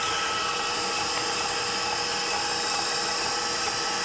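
An electric mixer whipping lemon-ginger chiffon cake batter, a continuous high, even whirring drone at constant speed, loud and close with no talk.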